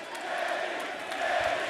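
Arena crowd at an AEW Dark wrestling show in Indianapolis cheering Kenny Omega's entrance, a steady, loud roar of many voices that swells near the end.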